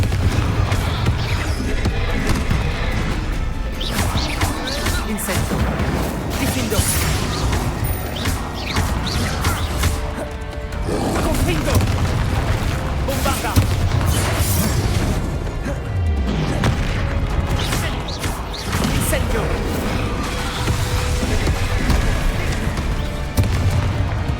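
Spell blasts from a Hogwarts Legacy battle, with Bombarda, Incendio, Confringo and Diffindo firing as dense, loud booms, crashes and whooshes that overlap continuously in a heavy wall of combat noise.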